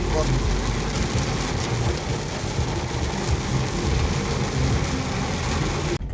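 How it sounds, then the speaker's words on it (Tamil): Heavy rain pours on a forested mountain road on the Ponmudi route toward Tenkasi, a dense, steady roar that stays loud and unbroken for the whole stretch, with a faint undertone like a vehicle moving through the downpour. "மழை வேறு லெவல்"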